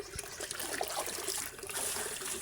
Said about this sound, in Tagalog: Lagyan na niya ng tubig mga kababoy